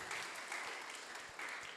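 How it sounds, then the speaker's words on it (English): Audience at an international academic conference applauds, a dense, even clatter of many hands clapping at close-to-moderate distance throughout the short stretch. "Give applause."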